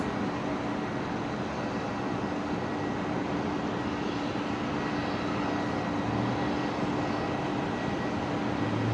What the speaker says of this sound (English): This hopefully, fingers crossed we get some nice reverse thrust action here